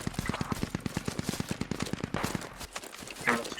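Rapid bursts of automatic gunfire from the military shooter game Squad, a fast steady rattle of shots over about two and a half seconds, followed by scattered sharper reports and faint background noise.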